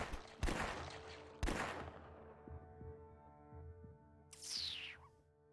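Two sharp, loud shots ring out in the zombie shooter flash game The Last Stand as barrels are fired upon, each followed by a decaying tail over a low hum, then a later rising synthetic swoosh.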